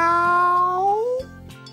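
A voice imitates a cat meowing, depicting a cat with a bandaged paw at a vet's waiting room: one drawn-out, rising meow, close and clear, followed by a brief softer sound.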